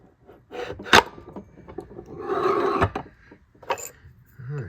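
Harbor Freight shop press forcing a bearing cup out of a 1/5 scale Taylor 55 Kraken Vesla RC transmission, using a hex socket as a drift: close creaks, scraping and a sharp crack or two under the pressure.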